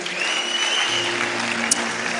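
Wedding guests applaud in a dense, steady wash of clapping that holds at an even level, with a faint sustained musical tone underneath.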